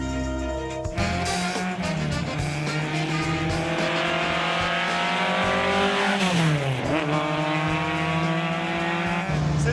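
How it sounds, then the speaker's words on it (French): Fiberglass-bodied race car on the Issoire asphalt circuit, its engine revving loudly and shifting up and down through gears as it speeds past, with the pitch dropping and climbing again and no talk. "Mais sur le circuit en asphalte d'Issoire, le terrain n'est pas le mieux adapté pour ce genre de voiture."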